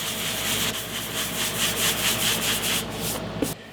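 Sandpaper rubs over a glued wood joint seam to smooth it, giving a steady, close, rasping scratch in repeated strokes that runs almost the whole time and then stops abruptly.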